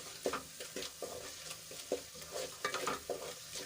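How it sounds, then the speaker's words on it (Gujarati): Spices frying in oil for Gujarati dal dhokli, with a low crackling sizzle broken by repeated spoon scrapes and stirring knocks in an irregular rhythm, close and fairly quiet. "મસાલાને એકાદ મિનિટ સુધી આપણે સંતળાવા દઈશું"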